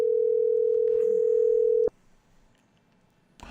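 A steady telephone dial tone holds for almost two seconds while a call is being placed, then cuts off abruptly, leaving a quiet line before a faint click.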